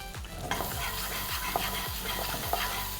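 Green chilli, ginger and garlic sizzle steadily in a hot pan with cumin while a utensil scrapes and stirs in regular strokes, fairly close.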